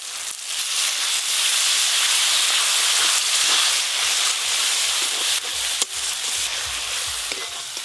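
Grated tomato hits a frying spice masala for Bhola fish curry, setting off a loud, steady sizzle with scraping stir strokes that carries on throughout, no voices.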